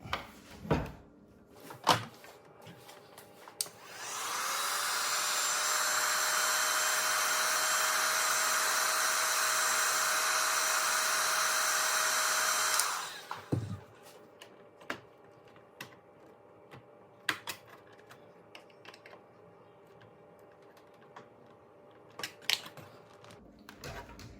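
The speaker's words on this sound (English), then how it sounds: "Put a little more heat on it." A heat gun blows on a 2014+ Toyota Tundra grill insert with a steady, loud rushing hiss and a faint whine that lasts about nine seconds. Scattered small clicks and taps come before and after it.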